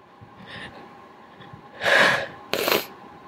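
A person lets out a big sneeze: a sharp, noisy burst followed quickly by a second explosive one, close and loud against a quiet room.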